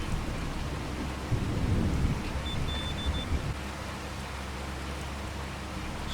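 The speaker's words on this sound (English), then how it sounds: "I don't know if I would do all of this work in the rain in real life" Steady rain pours in the Farming Simulator 25 video game while a low rumble of thunder rolls through the first half, then settles back into an even, continuous downpour.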